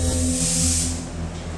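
A spray gun laying down TCI Euro Clear coat hisses in one continuous close burst, a bright airy rush over a low hum that eases off near the end.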